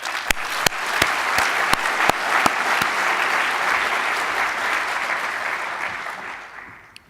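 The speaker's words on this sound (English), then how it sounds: "I think that's worth a round of applause." An audience at a powder metallurgy conference plenary session breaks into sustained applause, with a few sharp claps at the start, then dense steady clapping that fades out after about seven seconds.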